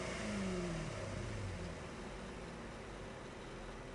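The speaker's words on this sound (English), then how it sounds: "When you select them, it does start the engine." A car engine in a video game starts when the vehicle is selected, then settles into a faint, steady hum under a background hiss, with no talk.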